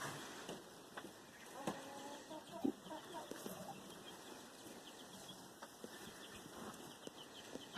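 A chicken being treated for broken, bleeding feathers clucks softly in a few faint, scattered notes over a steady low background hum.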